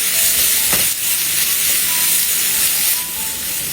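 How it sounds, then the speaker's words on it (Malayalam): Crushed shallots and garlic added to sautéed onions in a hot pan, producing a loud, steady close sizzle and hiss with occasional stirring scrapes, no talking. "ഇനി ഇതിലേക്ക് നമ്മൾ ചെറിയ ഉള്ളിയും വെളുത്തുള്ളിയും കൂടെ ചതച്ച് വെച്ചത് ചേർത്ത് കൊടുത്ത് ഒരു 40 സെക്കൻഡ് ഒന്ന് ഇളക്കി കൊടുക്കാം"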